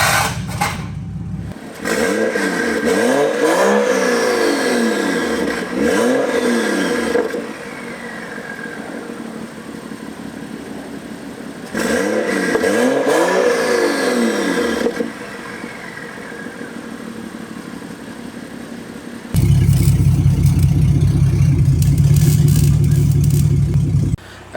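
BMW X5 M Sport fitted with a Vibrance Performance 10632 exhaust, revving in loud repeated bursts that rise and fall, with idle between throttle blips and a heavier, steady rumble near the end, no talk.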